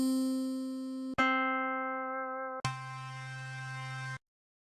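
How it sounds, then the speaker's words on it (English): Three acoustic guitar sample variations previewed one after another in Ableton Live's browser, each a single sustained plucked note or chord that rings out and cuts off abruptly before the next begins. "You can hear how each sound is sonically related to the initially chosen acoustic guitar sound."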